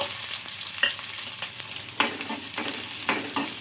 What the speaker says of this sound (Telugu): అవి కాస్త ఫ్రై అయిన తర్వాత ఇందులోకి చిన్నగా కట్ చేసుకున్న ఆనియన్స్, మిర్చి అయితే వేసుకోవాలి